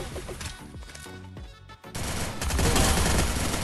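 P90 submachine gun fire in a video game, a burst of rapid shots followed by a louder, denser stretch of continuous automatic fire with no talking.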